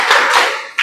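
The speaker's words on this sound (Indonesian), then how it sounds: "tepuk semangat" Rhythmic group clapping by students in an Indonesian classroom doing a 'tepuk semangat' spirit clap, a short burst of a few loud, close hand claps in quick succession.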